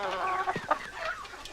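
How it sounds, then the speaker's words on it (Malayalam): Chickens cluck close by in a short run of several quick, throaty calls with uneven rhythm, moderately loud over a faint background. "നല്ല വയറ്റിലകൻ കോഴി"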